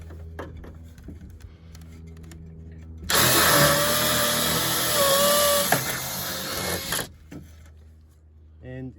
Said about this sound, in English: Now that I have that in place, I can now drill my second hole.